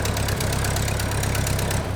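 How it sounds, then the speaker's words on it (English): A Ford tractor engine idles steadily and close by, a continuous low rumble with a faint regular knock and no speech over it. "Now I'm gonna turn the tractor off"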